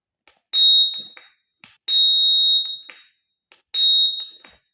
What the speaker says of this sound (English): if you switch on, the buzzer will make sound